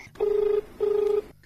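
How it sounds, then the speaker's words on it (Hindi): A telephone rings twice with steady electronic tones for an incoming call during a Hindi farming call-in broadcast, each ring about half a second long and separated by a short gap, with no talking over it. "देखें एक फोन और आवत है।"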